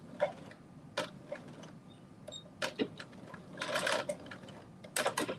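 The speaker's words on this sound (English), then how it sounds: "So I'm just kind of doing a little back and forward stitch on here." Sewing machine running a short back-and-forward stitch on a knit dress, with bursts of rapid mechanical ticking separated by brief pauses, fairly quiet and close, no talking.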